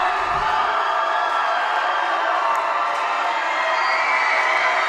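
During a boys high school basketball section game, a gym crowd roars and cheers continuously, a loud dense wash of shouting voices with scattered whoops rising above it.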